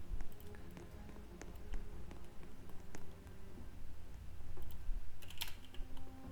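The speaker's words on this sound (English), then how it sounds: "he's typing a storm right now" Someone types fast on a computer keyboard, producing a steady, dense clatter of keystrokes for several seconds with no talking over it.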